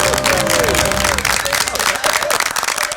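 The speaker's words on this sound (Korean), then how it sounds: "박수 소리가 좀 약합니다." A crowd claps steadily, with a voice speaking over the applause throughout.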